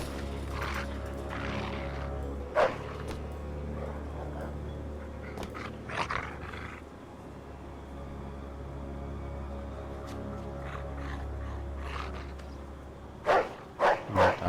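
A dog barks in the video game Mafia II Definitive Edition, with a few scattered barks and yips over a low game hum and then a quick burst of barking near the end.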